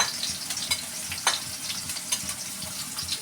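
Sliced onions frying in very hot oil in a home kitchen pan, a continuous crackling sizzle with sharper spits and pops and occasional stirring scrapes, close and fairly loud.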